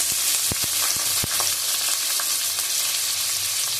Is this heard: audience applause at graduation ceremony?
no